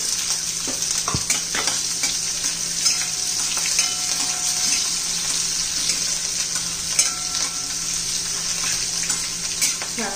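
Onion dropped into hot oil with spluttered mustard and cumin seeds in a wok, sizzling loudly and steadily up close, with occasional stirring scrapes and clicks and no voices.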